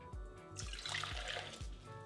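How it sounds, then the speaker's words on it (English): Foamy yeast mixture is poured into a bowl for breadstick dough, giving a steady soft trickle and splash that is close and continuous over a faint low background thumping. "So we're gonna pour it into our bowl."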